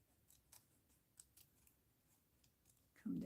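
Scissors snip through paper in a series of quick, crisp, faint cuts at an uneven rhythm, close and quiet, ending with a louder thud.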